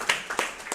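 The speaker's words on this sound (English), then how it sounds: "I think a round of applause." A live tech-show audience gives a short burst of scattered clapping, a few distinct claps standing out over a quiet room without any talking.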